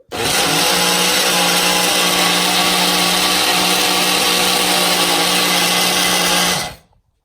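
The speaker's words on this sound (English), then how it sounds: "Blend it again." A kitchen blender runs continuously for about seven seconds, blending uttapam batter with added salt. The loud, close motor whine holds steady from a quick start and winds down at the end, with no voices.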